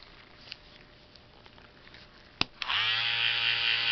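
Andis cordless T-Outliner lithium-ion trimmer switching on after a few faint clicks, then a steady high-pitched electric buzz running continuously and close up.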